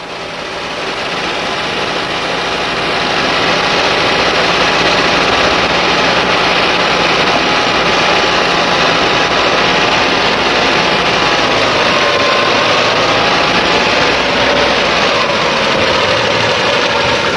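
A car engine with a 2E or 3E carburetor idles loudly and steadily during carburetor adjustment, a constant rumbling drone with a faint tonal whine shifting slightly near the end.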